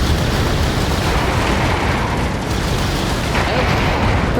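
Heavy, loud rumbling blast as a substation is destroyed in the Vox Machinae mech combat game, a dense sustained roar filling the stretch with a fresh burst near the end.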